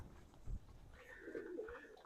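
Racing pigeons coo softly at their loft, a low murmuring coo rising and falling over a steady quiet background with no talk.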